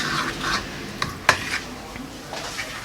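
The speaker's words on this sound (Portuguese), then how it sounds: "Continua misturando." Eggs and flour being worked together by hand for fresh pasta dough, with soft, steady rubbing and squishing, a few sharper scrapes and no voices.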